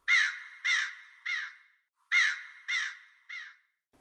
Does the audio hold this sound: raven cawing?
yes